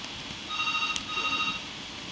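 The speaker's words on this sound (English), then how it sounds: "that's just the phone ringing" A telephone rings in two short electronic bursts over the steady background of a Tanki Online tank battle game, clear and fairly loud, with no voices.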